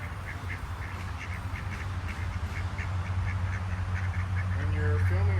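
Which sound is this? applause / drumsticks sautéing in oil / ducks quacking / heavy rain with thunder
ducks quacking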